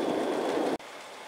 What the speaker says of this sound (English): it's now raining rather heavily